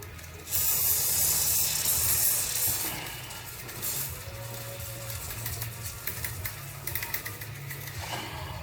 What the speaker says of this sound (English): I'm trying to spray fairly accurately